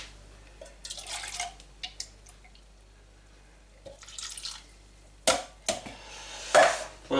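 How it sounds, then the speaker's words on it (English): Whole chillies are swished around a pan with a splash of vinegar for sweet chilli jam, giving intermittent wet sloshing and dripping bursts, close up, with louder splashes near the end. "Let's swish that round with a bit of vinegar."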